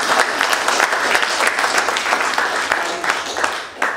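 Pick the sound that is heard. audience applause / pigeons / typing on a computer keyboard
audience applause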